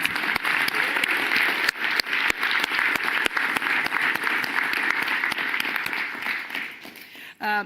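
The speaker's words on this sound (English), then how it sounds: "Round of applause to our provost." An audience at a King's College lecture applauds the provost, with brisk, full clapping running steadily throughout and fading slightly near the end.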